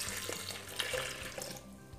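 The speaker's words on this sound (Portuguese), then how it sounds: "250 ml de água morna." Warm water, 250 ml, poured into a bowl with onion, sugar, salt and dry yeast for soft onion bread dough, a steady splashing trickle running close by for about two seconds.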